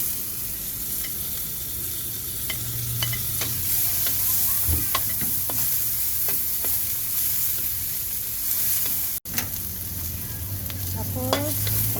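Tomato and onion sautéing in a pan for monggo, a steady close sizzle with intermittent stirring scrapes and small crackles, a brief dropout near the end, no talk.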